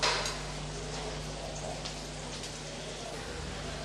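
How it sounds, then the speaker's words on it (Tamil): Crushed garlic and onion sautéing in a pan give off a steady, even hiss and crackle that runs unbroken from start to finish at a moderate level. "இது நல்லா வதங்கிட்டு இருக்கட்டும்"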